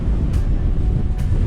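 Strong wind roars across a mountain ski tour in the Rockies near Lake Louise, a dense, steady buffeting rush battering the microphone with brief sharper gusts, loud and close throughout.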